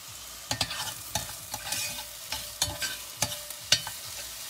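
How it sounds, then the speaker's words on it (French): Onions frying in butter and oil for Spanish-style rabbit, stirred with a spoon: a close, continuous sizzle broken by repeated sharp scrapes and clinks against the pan at an irregular pace. "là on blanchit les oignons avec le beurre et l'huile"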